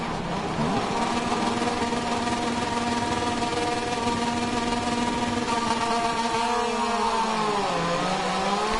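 Moto2 motorcycles at the Sachsenring in a racing game give a loud, steady whining engine drone that shifts pitch as revs fall and climb again near the end, with no voices over it.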